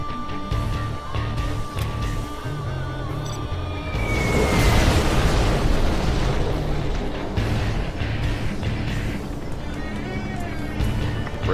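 Bombs burst one after another during an aircraft bombing run in a video game, a heavy rumbling barrage that erupts partway through and rolls on loudly over a steady tonal game background.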